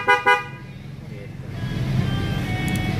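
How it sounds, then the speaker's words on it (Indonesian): A custom horn on a 2018 Honda PCX scooter gives two short, close honks at the start, followed by a steady low background rumble. "Yang ini klakson custom."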